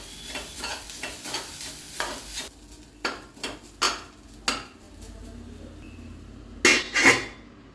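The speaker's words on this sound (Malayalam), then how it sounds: "ഇനി ഇതിനെ നല്ലോണം ഒന്ന് മിക്സ് ചെയ്തിട്ട് ഒരു 5 മിനിറ്റ് അടച്ചു വെച്ച് വേവിക്കാം" Grated coconut stirred into beans thoran in a pan, a series of spoon scrapes and clinks against the pan over a faint sizzle, ending with a couple of sharper metallic knocks.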